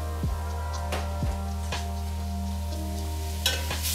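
Parsley and onions fry in a pan with a faint, steady sizzle while a utensil scrapes and taps through them in a few spaced stirring strokes.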